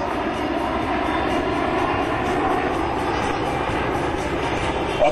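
US Air Force F-15 Eagle fighter jets approaching at an Alaska joint force demonstration, a steady, loud jet-engine roar that holds without letup across the whole stretch.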